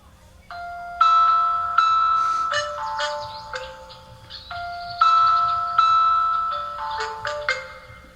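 A video doorbell's bird-song ringtone, a synthetic warbling melody of chirpy electronic tones, plays in two repeated phrases, clear and close, imitating birdsong.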